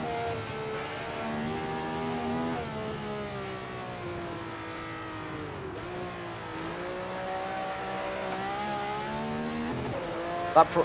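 A 1967 Ferrari 312/67 in the Grand Prix Legends racing game sliding around the Nordschleife, a sustained high engine whine with shifting pitch as revs rise and drop, a few sharp bumps near the end, no talk.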